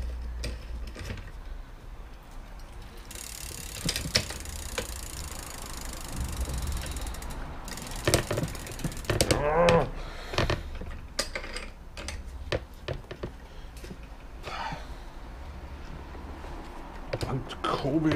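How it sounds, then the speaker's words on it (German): A crank puller is threaded into a bicycle crankset, giving repeated ratcheting clicks and mechanical ticks in uneven bursts, close up, with brief talk in between. "Mit einem Kurbelabzieher. Den schrauben wir erstmal hier rein."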